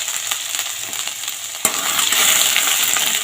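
Spice paste with ginger sizzles and fries in a pan for a vegetarian spinach and cauliflower dish; a steady close sizzle grows louder and busier halfway through as the ginger goes in.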